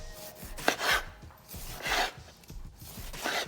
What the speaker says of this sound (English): Just using a bread knife for this.